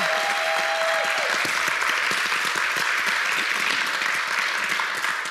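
Church congregation applauding loudly, a dense, sustained wash of many hands clapping at full strength from start to finish, with a brief tone fading early on.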